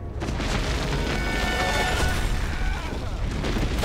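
Enemy gunfire in the video game Gauntlet, a dense, loud wash of continuous booming shots and blasts that fills the whole span without a break.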